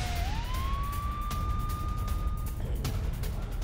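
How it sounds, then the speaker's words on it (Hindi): An air raid siren sounds in Tel Aviv during a rocket attack. It makes a single wail that rises quickly and then holds a steady, piercing tone for a few seconds over constant background noise. "कई इलाकों में अब भी यहां पर एयर रेड सायरन बज रहे हैं।"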